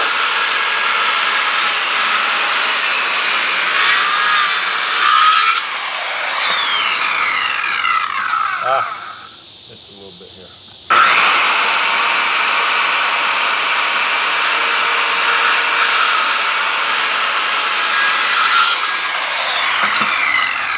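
A power saw cuts treated timber in half outdoors, a loud sustained whining rasp that drops away briefly near the middle, then resumes for a long second cut.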